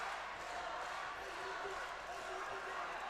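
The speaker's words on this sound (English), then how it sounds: "we hear the Filipino crowd just chanting for Steven Lohman" A Filipino crowd chants for fighter Steven Lohman at a BRAVE international fight event, a steady, dense roar of many voices sustained throughout the arena.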